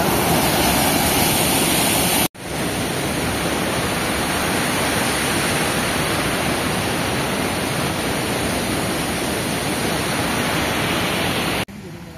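Strong current of the Noyyal river near Coimbatore, a loud, unbroken roaring rush of water close by, briefly cut off near the start and again at the end.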